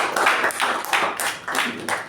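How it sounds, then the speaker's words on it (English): An audience at a Toastmasters club meeting applauds the master of ceremonies, a dense burst of clapping that swells and dips in quick waves for a couple of seconds. "A big round of applause for her"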